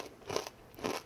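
Two crisp crunching bites into deep-fried jellyfish, spaced about half a second apart, close and clear with no talking.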